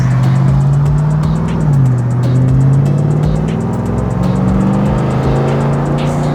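A loud truck engine roars close by, holding a deep steady drone that dips and climbs as it accelerates, continuous for several seconds with no talking over it.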